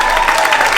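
An audience at a seniors talent show in Knoxville claps steadily, a dense, even wash of applause from a crowd filling the room without pause.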